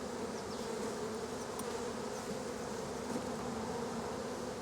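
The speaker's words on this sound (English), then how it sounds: "Bees are all over." Honeybees swarming around hive frames during an August inspection of a split, a dense continuous buzzing drone, close and steady throughout with no pauses.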